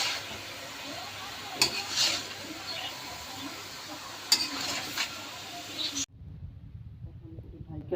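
Spiced beef liver stirred and frying in a pan, with a close, steady sizzle and scraping spatula strokes plus a couple of sharp utensil clacks, before cutting to a quieter background.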